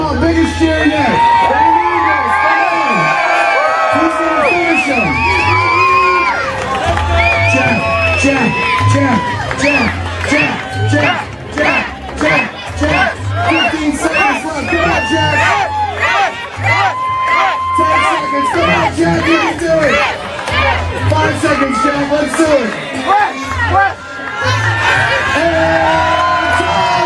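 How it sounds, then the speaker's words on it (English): Festival crowd at a sausage eating contest during St. Anthony's Festival cheers, whoops and yells loudly and continuously, with an announcer's voice over the noise. "Come on, biggest cheer yet."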